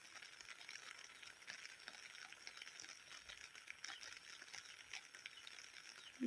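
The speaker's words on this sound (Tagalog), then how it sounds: "Ayan na, ulan na guys." Rain falls on a mountainside in a soft, dense, even patter, faint and continuous, with no voices over it.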